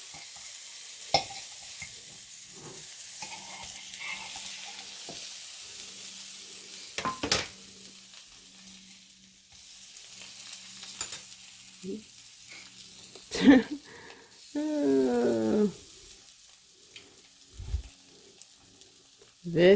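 Fruity Pebble French toast fries in butter on a hot pan after being flipped, a soft continuous sizzle broken by a few sharp utensil clicks and scrapes, with a brief murmur of voice partway through.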